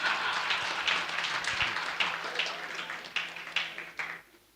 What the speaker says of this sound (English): Give me a round of applause for that one.